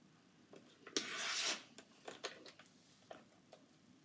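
Paper strips for a 12-by-12-inch scrapbook page layout are trimmed with a quiet, close rasping slide, followed by a few soft scattered ticks and taps.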